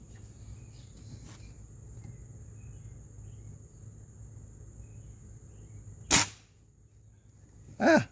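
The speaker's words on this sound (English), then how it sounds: "I'm just going to kind of shoot at the carpet to see how loud it is." A Springfield Armory M1A .22 spring piston air rifle fired into carpet indoors: two short, sharp pops near the end, each followed by quiet, over a steady background of cricket chirping.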